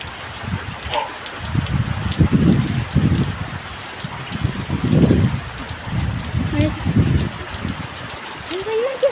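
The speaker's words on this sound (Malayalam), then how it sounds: "നല്ല മഴയാണ്" Heavy rain pours steadily nearby, a dense continuous hiss with louder swells, while people talk intermittently over it.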